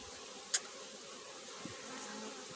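Honeybees around a hive, a soft steady insect buzz running low and even throughout, with one brief sharp click near the start.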